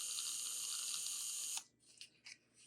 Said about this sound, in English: Let's give this a good mix with my little mixer here.